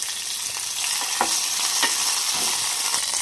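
Amla pieces and fresh curry leaves fry in hot oil for a rasam tempering, giving a continuous sizzle with a few sharper crackles and pops, close and alone without speech.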